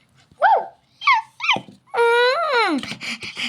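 Close to the microphone, a dog gives a few short rising whimpers, then a longer drawn-out whine that slides down into a low growl, followed by rough huffing sounds.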